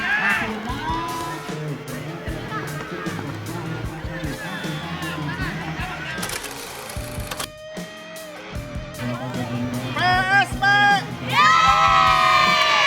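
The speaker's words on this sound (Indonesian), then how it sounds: "Terlihat sorak-sorai pemuda-pemudinya yang antusias ngabobotohan." A crowd of young spectators cheering and shouting after a youth football match, with whoops and excited voices rising loud toward the end while someone narrates over the noise.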